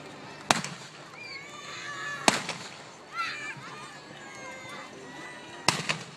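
Pistol shots are fired at balloon targets at a PBR rodeo. Three sharp, separate cracks ring out a few seconds apart while a voice keeps talking underneath.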